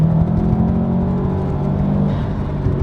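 2019 Subaru STI accelerating on a track out of a corner, a loud, close, steady engine drone with a whirring tone holding throughout, no talk.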